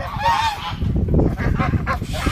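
Grazing geese honk several times in quick succession, close by and loud, with soft rustling between the calls.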